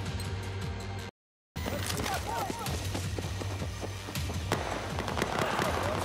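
Shotgun blasts and other gunfire in Battlefield 4 crack repeatedly, close and loud amid a busy battle of thumps and bangs, broken by a brief dropout of total silence early on.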